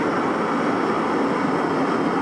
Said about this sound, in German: Und zwar fliegt zeitweise ein Flugzeug über die Karte.